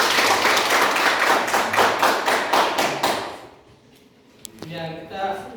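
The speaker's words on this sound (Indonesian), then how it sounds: "Boleh kasih tepuk tangan dulu." A class of about 33 tenth-grade students clapping together in a classroom, a dense burst of applause lasting about three seconds before fading out, followed by a brief tap and a voice speaking.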